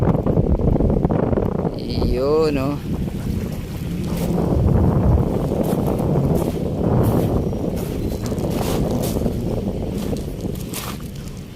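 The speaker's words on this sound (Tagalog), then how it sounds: "Uy, lakas ng hangin na talaga." Strong wind buffets the microphone at Dolomite Beach on Manila Bay, a loud, continuous rumbling gust, while a person talks briefly over it.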